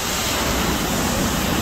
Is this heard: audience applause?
no